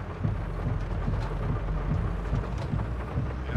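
Steady rain falls in Farming Simulator 22, a dense continuous hiss with low rumbling underneath and no voices.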